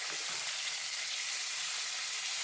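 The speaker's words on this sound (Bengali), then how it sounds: "আদা রসুন বাটা পেঁয়াজের সঙ্গে একসঙ্গে মিশিয়ে নিয়ে আবারও খুব ভালো করে ভেজে নিতে হবে।" Onions frying together with ginger-garlic paste in a pan give a steady, even sizzle that holds throughout at moderate loudness, with no voices.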